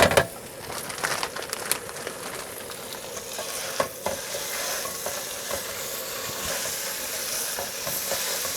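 Eggs with cheese, butter and green onions frying and being stirred in a pan outdoors at a creek campsite, a steady close sizzle with scraping stirs and a few sharp clicks of a utensil.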